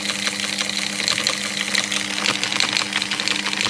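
A three-phase magnetic levitation rig spins its rotor quickly above a red coil at 180 volts, giving a steady mechanical hum with a continuous low drone and busy broadband whir that holds even and loud throughout.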